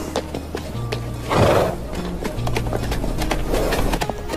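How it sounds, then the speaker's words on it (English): A wild horse herd is heard up close: one loud, drawn-out neigh, then quieter whinnies, with hooves clip-clopping steadily underneath throughout. "waxaan u hoggaaminayaa qoyskan fardaha mid ka lab ee lagu magacaabay Stelia."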